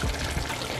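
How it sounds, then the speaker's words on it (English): Sauce pours briefly into a pot of simmering Jamaican oxtail, a short, close, soft liquid splash and gurgle with no talk. "And then we're just going to add our sauce and dinner's ready."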